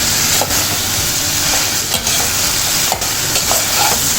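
Curry chillies sauté loudly in hot oil, a dense, continuous sizzle with occasional scraping stirs of a spoon in the pan, close and steady throughout.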